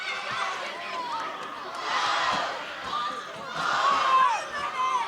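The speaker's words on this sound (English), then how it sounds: "The K section really enlivening here as they cheer on their team with a 1-point lead" A student section cheers at a varsity boys soccer match, a broad crowd roar swelling twice as distant shouts and whistles rise, with commentary talking over it.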